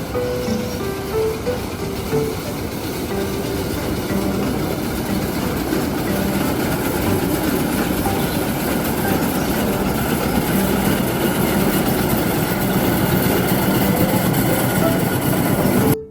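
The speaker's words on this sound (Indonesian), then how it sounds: "di sini juga masih ada wahana kereta di atas" Steady rumble of an elevated-track ride train rolling along at Taman Safari Prigen, a continuous mechanical drone with faint clacking throughout, fairly close and unbroken.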